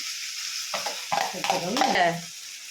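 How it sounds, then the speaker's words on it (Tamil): Sliced okra being stir-fried in a pan, a close hiss with clattering spoon scrapes and stirring knocks over a couple of seconds, with a faint voice-like tone mixed in. "நல்லா வசக்கிட்டு பாருங்க வெண்டைக்காய்"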